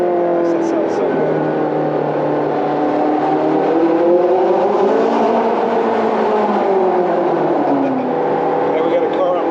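A McLaren 675LT engine pulls hard in a continuous close-up drone that rises and falls in pitch as the car accelerates, with people talking over it.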